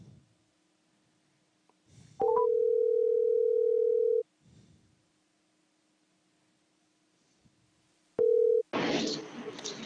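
A steady telephone dial tone sounds loud and alone for about two seconds as a call is placed, then returns briefly before a burst of noisy connection hiss; faint breathing or talk murmurs in the quiet gaps.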